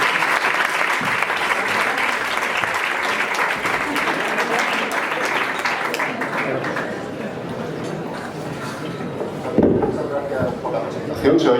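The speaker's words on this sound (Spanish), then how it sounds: "Un aplauso" A live science comedy-monologue audience applauds as a researcher and pulmonologist is introduced, dense sustained clapping across the whole stretch, loud and close, with a few sharper bumps near the end.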